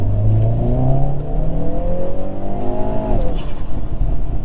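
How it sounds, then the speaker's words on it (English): A 2021 Hyundai Veloster N with a dual-clutch gearbox revs hard through the gears, rising in pitch and then dropping off, with a rumbling, crackly, popping exhaust close by. "The exhaust never gets old. The pops and the crackles and just everything, so visceral."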